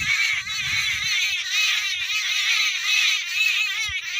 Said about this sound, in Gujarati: આ લેલાડા અને નો કલરવ